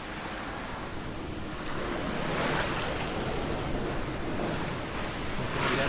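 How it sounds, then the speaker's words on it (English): Atlantic ocean waves around a sailboat on a crossing, a continuous loud wash of water and wind noise with surges as swells build. "she's riding those waves. Getting big."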